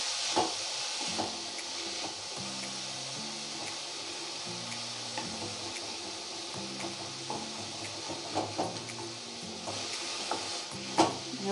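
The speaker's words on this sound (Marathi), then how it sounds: "व्यवस्थित हलवत राहायचं आहे." Beetroot and jaggery mixture being stirred in a pan over a low flame, a continuous soft sizzle with repeated scraping and occasional knocks of the spoon, close by, no voices.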